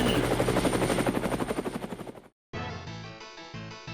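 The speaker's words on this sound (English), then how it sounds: "Helicopter away!" A rapid, chopping helicopter rotor effect roars loudly for about two seconds, cuts to silence, then music with a thumping beat begins.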